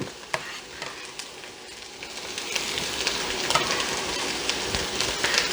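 Onions and peppers going into a hot pot, a sizzle that swells and grows steadier and louder over a few seconds, with a few sharp knocks and stirring clatters near the start, and no voices.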